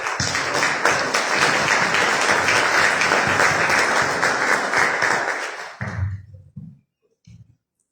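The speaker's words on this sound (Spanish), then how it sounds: "Por favor, démosle un aplauso a la doctora Carol" An audience applauds a doctor speaking about systemic corruption and violence at a lecture, with a loud, full wash of clapping lasting nearly six seconds before it cuts off, followed by a few faint scattered sounds.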